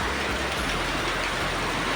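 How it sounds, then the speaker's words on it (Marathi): Heavy monsoon rain pours down outside a home in Maharashtra, a dense, steady hiss that fills the whole stretch without a break. "चिक्कार पाऊस पडतोय."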